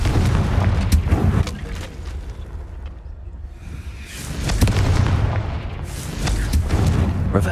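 Fiery blast from the Confringo explosion spell in Hogwarts Legacy, with deep booming bursts rolling over a rumbling game soundscape, a quieter lull midway before the detonations swell again.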